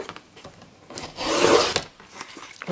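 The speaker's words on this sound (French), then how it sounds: "vous découpez une bande de papier." A single raspy scraping stroke of a strip of paper being cut for card-making rises and fades in the middle amid small handling noises.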